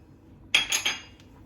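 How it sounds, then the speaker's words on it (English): A spoon scraping and clinking against a pot while stirring stock cubes and black pepper into cabbage spaghetti, two or three quick metallic knocks in an otherwise quiet moment. "She stirs it all in."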